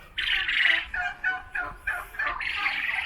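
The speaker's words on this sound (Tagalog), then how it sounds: "Ayan yung mga malalaking turkey, oh." Several large turkeys call in a series of loud, rough bird bursts, close by and without speech, with short gaps between the calls.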